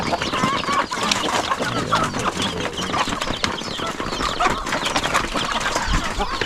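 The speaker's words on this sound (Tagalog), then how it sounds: "pagpakain ng alagang manok natin dito" Many chickens clucking busily and continuously at close range while being fed, a dense flock chatter with occasional faint human voice in the background.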